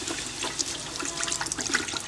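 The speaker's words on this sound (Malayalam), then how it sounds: "നമ്മൾ സുർക്ക ഒഴിക്കുന്നുണ്ട്." Vinegar pours into lemon pickle in a kitchen, a steady broad splashing liquid stream heard close and alone for about two seconds.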